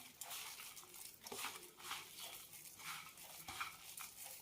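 Spiced chana dal pakoda batter with chilli powder, turmeric, salt, cumin, fennel and garam masala is mixed in a bowl, a soft wet squelching and scraping that rises and falls in quiet repeated strokes.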